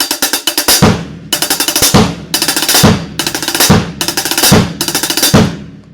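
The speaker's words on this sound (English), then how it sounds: "a pure 7-stroke roll with a release on the bass drum" Rapid drum strokes in quick bursts, each seven-stroke roll ending on a heavy low bass drum hit, repeated about six times in a steady pattern.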